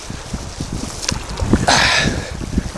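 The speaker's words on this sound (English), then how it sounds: "Now we're just in big waves." Motorboat riding through big waves on Lake Sharpe, with loud wind buffeting and hull thumps, then a rising rush of water spray midway, close and without speech.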